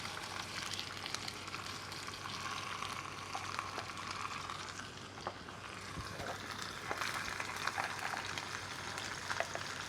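Marinated pork pieces for adobo frying untouched in oil, giving a steady close crackling sizzle that runs on unbroken, fairly quiet, with no talk.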